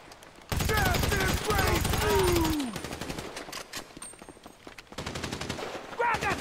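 Rapid bursts of automatic gunfire crackle through a GTA 5 firefight, loud and close, with dense volleys that pause briefly before erupting again while voices shout over the shooting.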